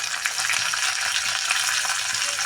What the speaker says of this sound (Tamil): நல்லா பொரிஞ்சோன்னா கூட்டில் போடணும்